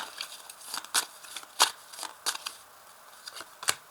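Tarot cards are shuffled and drawn, with crisp irregular flicks and snaps of card stock sounding close by against a quiet background.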